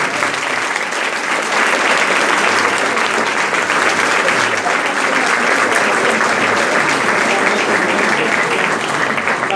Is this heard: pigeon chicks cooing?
no